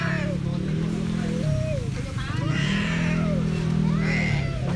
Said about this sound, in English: I thought that was a cat, I didn't realise it was a baby.